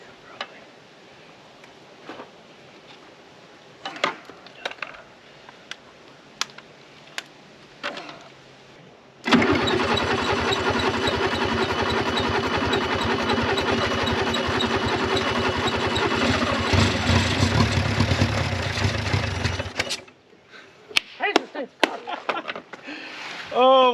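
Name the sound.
Renault car engine running rough, needing a carburetor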